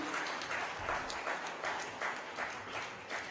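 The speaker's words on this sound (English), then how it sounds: "I would request everybody to give a round of applause and join in this felicitation" Audience at a youth climate conclave conference applauds during a felicitation ceremony, a steady wash of many hands clapping at moderate distance, fairly dense and continuous throughout with no talk over it.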